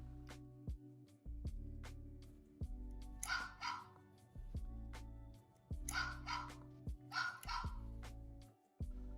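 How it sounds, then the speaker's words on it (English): A LEGO EV3 robot plays a recorded dog bark sound effect, repeated in short bursts of barks and yips over a steady electronic hum. "the robot will bark whenever the sensor is pressed or released"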